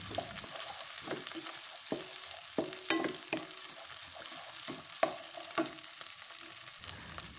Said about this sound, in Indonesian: Selanjutnya masukkan bakso, kemudian tumis kembali hingga bakso agak matang.